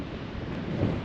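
Wind gusts across a rugged coastline beside old concrete steps leading down to a seaside swimming pool, a steady broadband roar with low rumbling buffeting on the microphone, swelling briefly louder near the end.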